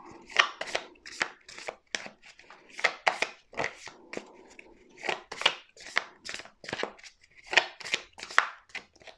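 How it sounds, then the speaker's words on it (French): Tarot cards being shuffled by hand in a quiet room: a steady run of crisp riffling and flapping bursts, close and moderately loud, repeating about every half second with a few brief pauses. "on va mélanger les cartes"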